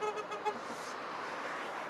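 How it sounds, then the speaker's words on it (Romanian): Car horns honk in a few short toots on a street in Ploiești, Romania, heard from a bicycle amid steady traffic noise, fairly faint and close together at the start. "Te știe lumea, te claxonează, te salută."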